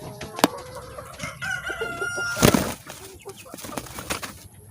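A chicken with a severe cold clucks and crows nearby, with sharp bursts and some wing flapping, set against a noisy outdoor background.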